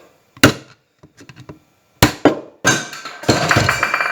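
Sharp metallic blows of a large hammer on a chisel ring out against a nut on a Corvette C3 Saginaw steering box, a few spaced strikes and then a quick flurry of heavier clanging hits, close and loud.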